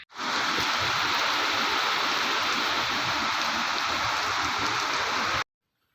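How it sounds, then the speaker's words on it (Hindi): Heavy rain pounds down at night at a train station, a dense, loud, uniform roar of falling water that runs steadily and then cuts off abruptly near the end, with no voices. "देखो कितनी तेज़ की बारिश हो रही है"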